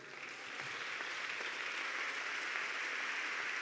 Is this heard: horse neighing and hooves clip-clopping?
no